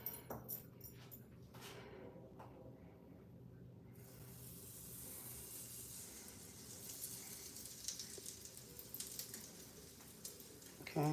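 Pancake batter sizzles in a hot frying pan, a soft steady hiss that settles in after a few faint clattering sounds at the start and stays quiet throughout.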